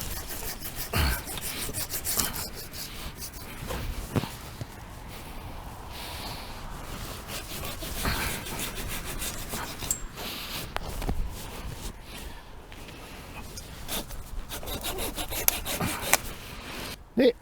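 A hand saw cuts through a fig tree branch during pruning, with repeated rough rasping strokes of wood being sawn close by, irregular in rhythm, plus occasional knocks and rustling.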